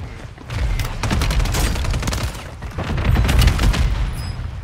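Video game gunfire crackles in a dense, loud burst of rapid shots, with a sustained barrage that dips briefly and then builds again, and no talk over it.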